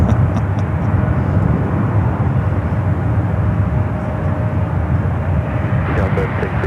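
A jet airliner lines up on runway 28 left at San Francisco airport, its engine roar loud and steady throughout under a broad rumbling wash, with a brief rise in higher tones near the end.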